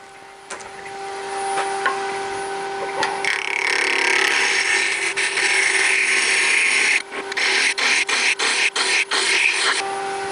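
A wood lathe spins at about 2,000 RPM while a 1-inch skew chisel cuts the wood, a loud steady whirring hiss with a tonal hum, its scraping growing rougher midway and then breaking into rapid on-off bursts as the cutting stops and starts.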